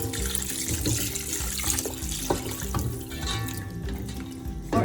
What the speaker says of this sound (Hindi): अब हम इसमें डालेंगे यखनी